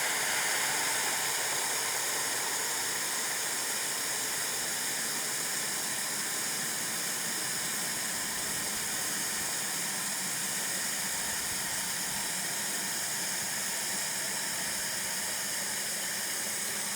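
A garden sprayer mists a 0-10-10 fertilizer solution onto plants, producing a continuous, fairly quiet hiss of spray that runs steadily without a break and with no voices.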